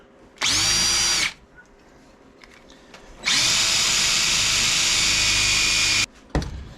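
A power drill whines loudly drilling metal on a Harley-Davidson Sportster in two sustained bursts, a short one and then a longer one, with a brief quieter pause between them.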